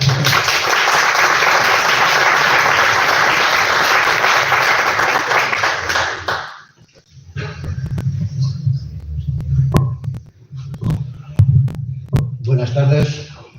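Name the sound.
audience applause at a lecture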